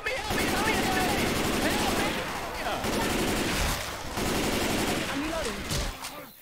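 Dense, continuous gunfire from Left 4 Dead 2 gameplay, including shotgun blasts, loud and close, with voices and game sounds mixed in throughout.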